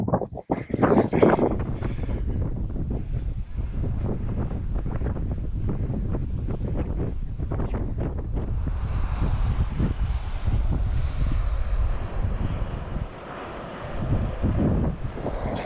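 Strong wind gusts roar and buffet across a rocky hillside above Patara beach in Turkey, a loud continuous rush with heavy rumbling blasts and no speech.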